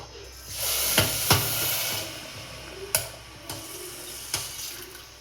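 Water poured onto sugar in a vessel for syrup makes a near, hissing trickle, with a few sharp clinks and knocks scattered through it.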